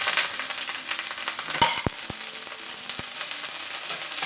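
Cauliflower sizzles and crackles in a hot stir-fry pan, a bright constant hiss broken by sharp clanks and scrapes of a utensil against the pan, close up with no talking.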